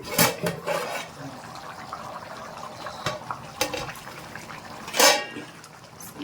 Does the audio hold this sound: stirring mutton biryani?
yes